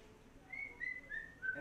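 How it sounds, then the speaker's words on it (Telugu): A pressure cooker whistles in a bachelors' home kitchen while mutton cooks, giving several thin, steady high-pitched whistle bursts in a row at moderate level, the last one joined by a brief noise at the end. "Ray, cooker whistle."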